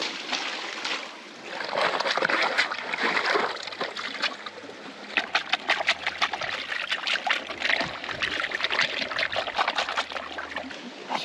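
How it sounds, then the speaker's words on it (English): Water is splashed by hand over gold sluice mat material at a creek mine, producing uneven trickling and splattering with bursts of sharper splashes, close and fairly loud, with no talk. "Splash some water on it."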